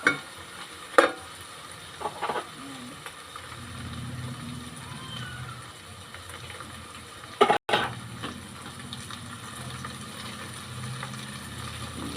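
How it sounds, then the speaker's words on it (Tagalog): Pork for dinuguan fries in its rendered oil with a low, continuous sizzle, while a few sharp metallic clanks and scrapes of stirring come close by. "Labas na yung mantika niya. Napiprito na."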